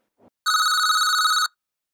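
A phone rings once in a Marathi cartoon scene, a single bright electronic trill lasting about a second, loud and clean after a tiny soft blip, then silence.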